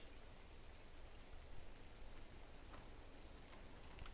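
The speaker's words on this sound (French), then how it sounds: "Le bleu et la pluie qui se déclenche." Steady rain falls in the video game Gris, a soft, even hiss of drops with faint scattered patters, continuous and fairly quiet with no voices.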